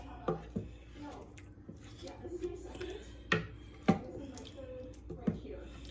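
A spoon works through a pot of slow-cooked meatballs, wet squishing scrapes and a few knocks against the pot at irregular intervals, close and fairly quiet, with someone talking in between.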